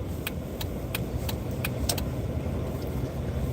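A Jeep shifted out of 4-low into regular drive rolls along a flat, icy, snow-covered road with no traffic, giving a steady close engine and tire rumble throughout, with a few faint metallic clicks or jingles.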